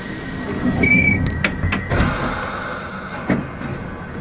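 Piccadilly line Underground train running, with a rumbling carriage, a brief squealing tone, clanks and rattles of the car as it moves, and no talking.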